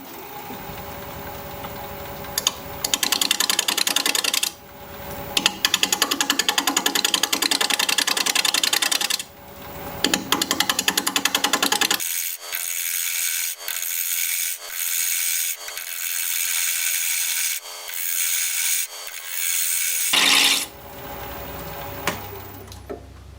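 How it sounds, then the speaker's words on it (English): Wood lathe spinning at 650 RPM while a 5/8 inch bowl gouge cuts a wooden vase, loud scraping, rasping bursts of cutting that start and stop repeatedly, with quieter gaps of spinning and rubbing between passes. "we're going to be turning at 650 RPM, 5/8 inch bowl gouge, mask and face shield on"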